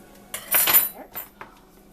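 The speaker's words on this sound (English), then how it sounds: "You can get out your plate, and I can get out my silverware" Metal cutlery clinks and rattles in a home kitchen as silverware and a knife are pulled out, a few quick bright clatters followed by a softer clink, with faint talk in the background.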